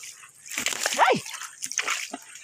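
A dog named Didi is bathed, water splashing and sloshing in short bursts close by while people talk over it.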